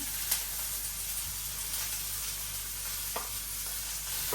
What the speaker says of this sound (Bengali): এই যে লবণ দিয়ে দিলাম দিয়ে দিলাম হলুদ কাঁচামরিচ দিয়ে দিলাম